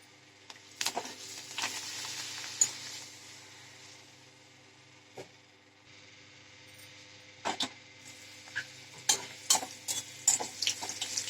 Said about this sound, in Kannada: ಸಂಡಿಗೆ ಮೆಣಸು ಫ್ರೈ ಮಾಡ್ಕೊಳ್ತಾ ಇದ್ದೀನಿ